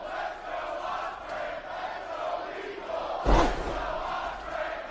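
Wrestling arena crowd at a championship match roaring and chanting in a continuous wash, swelling with a sudden loud burst near the end.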